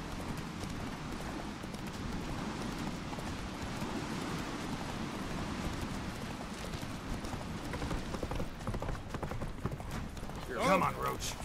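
Roach, the horse in The Witcher 3, gallops with a steady, fast clip-clop of hooves over a constant wash of wind and ambient game noise, while a voice speaks briefly near the end.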